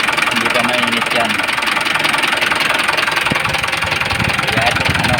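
Freshly overhauled Mitsubishi 4D34 intercooled turbo diesel engine, not yet warm and suspected of blow-by and knocking, runs loud and close with a rough rattling clatter, steady throughout with a few sharp knocks.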